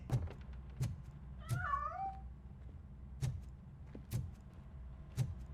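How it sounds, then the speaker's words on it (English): A cat meows once in RoboCop: Rogue City, a clear, fairly close rising-and-falling cry heard between repeated heavy thuds and clanks, no talk. "That cat must be hiding inside."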